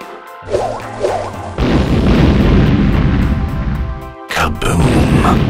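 A TNT blast booms in Brawl Stars, a loud sustained crash of about two and a half seconds that follows short voice sounds, with another sharp burst near the end.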